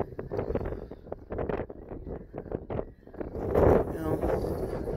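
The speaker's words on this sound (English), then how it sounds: "Sorry about the wind, guys." Wind buffets a microphone outdoors, producing a steady low rumble that surges into a louder gust near the end.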